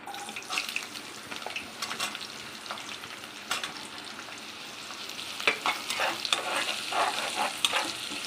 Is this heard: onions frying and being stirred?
yes